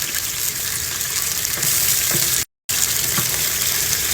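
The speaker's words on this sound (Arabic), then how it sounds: "بعد ما نزلنا زيتنا ننزل بصلنا نحركه شوي" Chopped onions frying in hot oil in a pot for a grouper fish mutabbaq, a dense, steady sizzle with a few faint stirring knocks and a brief dropout midway.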